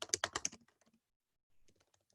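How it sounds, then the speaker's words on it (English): Rapid keystrokes on a computer keyboard while Java code is typed in a programming class, a dense close burst of clicks that thins into scattered, quieter taps before a brief pause and a few more soft presses. "Let me type out this function."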